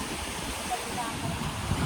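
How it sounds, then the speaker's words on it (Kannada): Sea waves wash in at Agonda beach in Goa, a broad steady surf rush with wind noise close to the microphone, louder toward the end, while people talk nearby. "ನೀರು ಸೌಂಡ್ ನೋಡ್ರಿ ಎಷ್ಟು ಚಂದ ಬರತೈತಿ"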